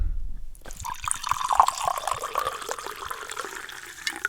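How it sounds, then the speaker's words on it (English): Wine pours into a glass with a bright, continuous trickling and filling sound, close and clear, starting after a brief moment and running steadily to the end. "That's a good pour."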